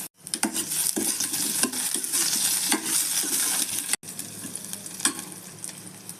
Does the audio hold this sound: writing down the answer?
no